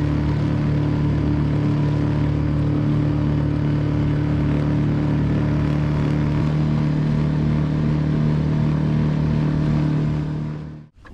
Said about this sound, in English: I've got a nice noisy engine today.